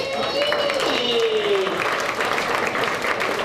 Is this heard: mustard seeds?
no